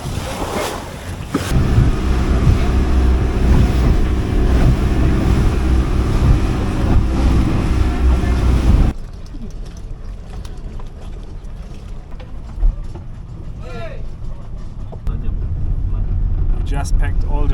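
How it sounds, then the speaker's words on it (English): A speedboat bound for Tobelo roars loudly with engine, wind and wave noise for several seconds, then drops to a quieter rumble with water sounds while people talk. "We are now sitting in a speedboat to Tobelo"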